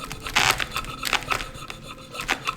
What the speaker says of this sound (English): just a good chisel will take this gasket material off like butter